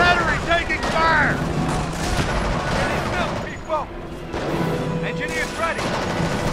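Artillery booms and gunfire in the Company of Heroes Normandy campaign, with distant blasts and scattered shots rumbling beneath shouted unit voice lines and battlefield chatter throughout.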